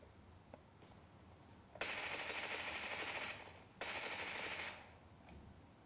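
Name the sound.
gunfire in the video game PUBG Mobile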